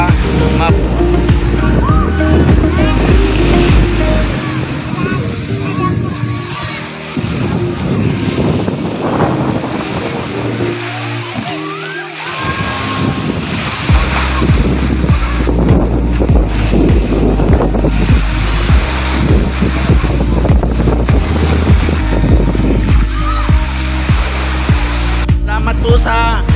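Motorboat (bangka) crossing the sea from Mabua beach to Warf beach, with a steady loud engine drone, wind buffeting the microphone and water wash throughout, voices occasionally talking over it.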